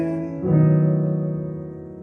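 Piano playing a gospel ending, a chord shift with a low added note followed by a single sustained chord that rings out and slowly decays.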